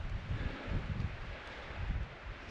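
Wind gusting across open Newfoundland country during a moose hunt, a steady low rumble with buffeting surges against the microphone, continuous and fairly loud with no talking.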